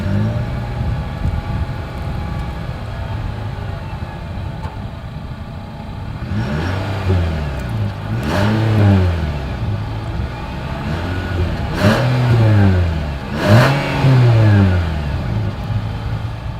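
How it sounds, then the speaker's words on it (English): A 2020 Nissan Sentra exhaust, idling steadily, then revved several times in repeated rising and falling sweeps, heard loud and close. "As always, here is that exhaust clip."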